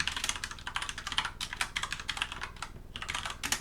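Rapid, continuous keystrokes on a computer keyboard while entering a terminal command, close and crisp with steady clicking and no voices.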